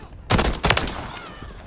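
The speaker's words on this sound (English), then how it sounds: "pretty good shots in that little burst there" A short burst of DG-56 rifle fire in Modern Warfare 3, several loud, rapid close shots packed into a fraction of a second, then a fading tail and quiet game ambience.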